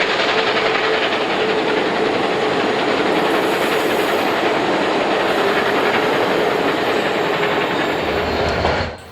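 A passing passenger train hauled by steam locomotive number 2816 in the Rocky Mountains rumbles loudly and steadily, wheels clattering on the rails in a dense, continuous roar that cuts off abruptly at the end.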